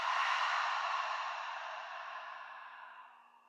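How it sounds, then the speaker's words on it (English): A single long exhale through the mouth during a yoga breathing exercise, a soft close airy breath that starts full and fades gradually over a few seconds in a quiet room. "Exhale through the mouth."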